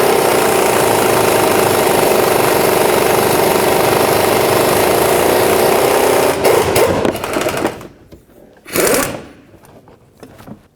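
A loud, continuous mechanical rattle from an impact wrench removing a front shock absorber nut on a 2008-2010 Ford F-250 runs for several seconds, then stops, followed by a few brief clanks and bursts of noise.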